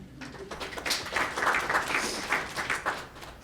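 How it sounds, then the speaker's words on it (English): Audience applause in a lecture hall, a steady patter of many hands clapping at moderate level for about three and a half seconds, fairly even throughout with no speech over it. "I'm going to ask you to clap for folks in philanthropy who are doing it right."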